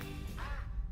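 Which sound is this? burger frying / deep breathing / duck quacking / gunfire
duck quacking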